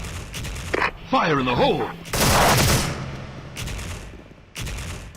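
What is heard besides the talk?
shotgun firing in a video game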